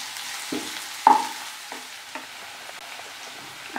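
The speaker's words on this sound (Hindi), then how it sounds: "अच्छे से भूनेंगे। मैं प्याज को हल्का सा ही गोल्डन करना है।" Onions frying lightly toward golden in a pan, a soft steady sizzle with a few brief stirring clatters, quiet and close.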